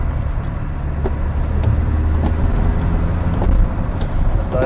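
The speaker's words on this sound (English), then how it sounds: "A very slow car." A slow car passes on a narrow country road in the Scottish Borders, its low engine rumble and tyre noise steady and fairly close throughout, with no talking.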